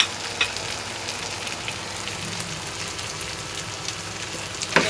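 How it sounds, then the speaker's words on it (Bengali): Dried fish frying with red chili in hot oil: a steady, close sizzle with scattered crackling pops, running alone without talk. "খোলাই তেলে পাতাতে লাল মরিচ দিয়ে ভাজা"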